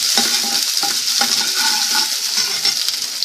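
Finely chopped ginger and garlic sautéing in a pan for Chicken 65 in gravy, a steady close sizzle running throughout with light stirring clinks and scrapes, no voices.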